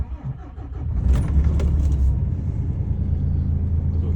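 A DAF XF105.460 tractor unit's engine idles as a close, steady, deep rumble, with a brief metallic jingle near the start.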